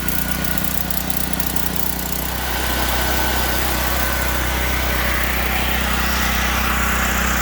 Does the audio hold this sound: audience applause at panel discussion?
no